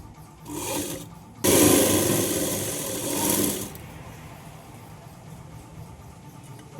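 A sewing machine stitches the lining cloth of a blouse in two runs, a short buzz and then a longer, louder whirring burst, near and alone with no talk.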